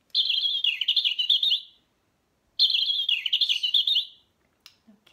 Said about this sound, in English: Okay, Robin makes a sound like this.